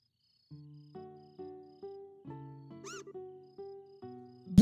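Cartoonish cat meows from the video game Trails in the Sky, a steady run of short repeated tonal calls roughly twice a second over a quiet game background, loud and close, ending with a sharp brighter burst.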